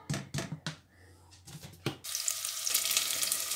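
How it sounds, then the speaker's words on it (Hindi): Cooking oil going into a pan for aloo chana, a few short clinks and pours first, then a loud steady sizzle and hiss that carries on to the end, with no speech. "और इसमें मैं डालूँगी तेल।"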